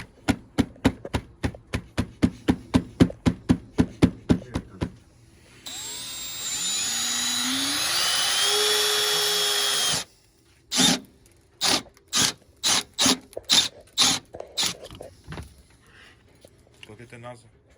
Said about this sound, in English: we're drilling